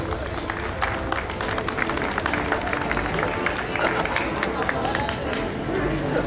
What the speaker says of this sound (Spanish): Un fuerte aplauso a nuestros profesores del área de sociales.